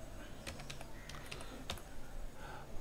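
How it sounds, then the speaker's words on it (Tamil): Keys on a computer keyboard clack in short, irregular bursts of quick taps, quiet and close, with no talk over them. "கோவிட் சர்டிஃபிகேட் டைப் பண்ணுறேன்."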